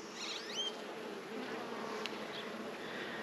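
Honey bees drone in a low, continuous buzz around a stump hive, steady and close, with a few higher-pitched wing whines passing by.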